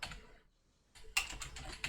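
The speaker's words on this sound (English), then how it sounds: "Can I not type in there?" Brief bursts of typing on a computer keyboard while entering a name in the Minecraft modpack FTB Oceanblock: quick close keystrokes, a short silent pause, then a denser run of clicks.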